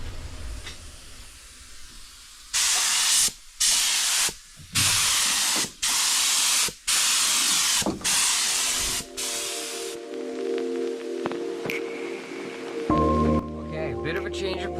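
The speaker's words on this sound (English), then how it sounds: "Got the spray gun, PVA." A spray gun blasts PVA release agent onto a race boat mold in a garage, with a series of loud hissing bursts in quick succession separated by short gaps, followed by quieter background noise and faint clattering.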